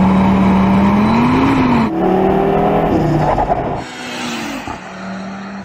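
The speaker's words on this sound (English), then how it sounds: "The unique thing about the RS3 compared to some other hot hatches is the fact that it gets a 5-cylinder engine." A new Audi RS3's five-cylinder engine revs loudly and close, a droning warble that climbs and shifts pitch through several gear changes before easing off.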